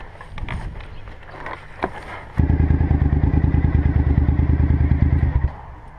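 A 2016 Suzuki GSX-S1000F motorcycle rides past with scattered knocks and clatter at first, then its engine abruptly cuts in loud and close, a rapid throbbing pulse holding for about three seconds before dropping away.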